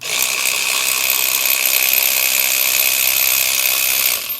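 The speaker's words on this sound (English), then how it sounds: "Thanks to the Eastvolt 12-volt power ratchet. Use it to get the spark plug out." An Eastvolt 12-volt power ratchet removing a spark plug from a 1971 Honda CB100: a loud, steady high-pitched motor whir running for several seconds without a break, close up.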